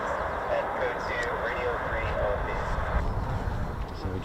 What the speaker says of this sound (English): So we just get another F-15 just making its way.